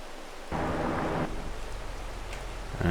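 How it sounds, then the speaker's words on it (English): Rain falls in Farming Simulator 22, a steady hiss that surges loudly for under a second, then settles into a dense, continuous patter. "Yeah, the rain is supposed to stop, but it will be a little while."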